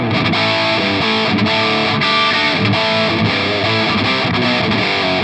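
Electric guitar played through a Suhr Riot distortion pedal on a vintage high-gain setting, producing thick, saturated chords and riffs with steady loudness for about five seconds, no voices.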